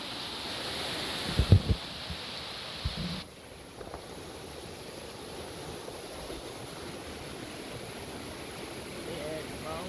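A mountain creek on Grandfather Mountain, North Carolina, runs over rocks in a steady, broad rushing wash, with a few louder thumps near the start before the flow settles into an even background hiss.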